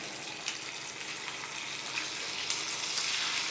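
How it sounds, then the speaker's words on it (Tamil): Tomato dropped into hot tempering oil for a garlic kulambu sizzles with a steady, fairly quiet hiss and a few small pops and crackles. "ஒரு தக்காளியை தாளிசத்தில் போட்டுக்கோங்க"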